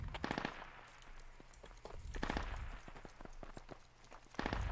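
Rapid bursts of automatic gunfire ring out in a squad-based military shooter game: several rattling volleys, some near and some farther off, at a moderate level with no talk.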